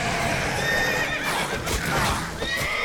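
A loud, close horse neigh in The Witcher 3: Wild Hunt, a long shrill whinny that wavers and fades, heard over a busy background.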